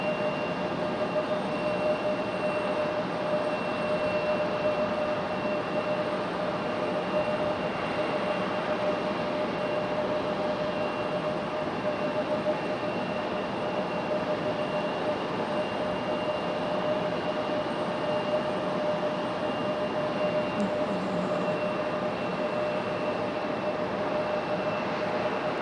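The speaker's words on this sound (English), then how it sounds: "we got a little E-175 from American Airlines pushing back" American Airlines Embraer E-175 regional jet pushing back at Raleigh-Durham International, a steady engine hum with a constant high-pitched whine, heard from a distance and unbroken throughout, with no talking.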